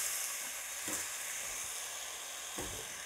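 Chopped chayote with carrots sizzles steadily in a hot pan over lowered heat, with a couple of soft scraping stirs breaking through the continuous frying hiss.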